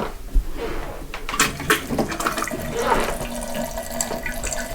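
Water from a gravity-fed hot water system runs from a bathroom tap in a steady, close splashing stream that continues throughout, with no speech.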